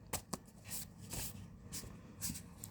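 Tarot cards being shuffled, a few soft riffling bursts and papery flicks, faint and close, with quiet pauses between.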